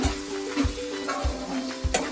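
Tomatoes stirred into a capsicum curry frying in a pan, with an ongoing sizzle and a few low thumps and scrapes from the spoon, close up.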